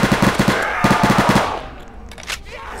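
Rapid bursts of automatic gunfire from the Roblox game Resurrection, two loud clusters of four or five quick shots each, followed by quieter game sounds and a distant shot.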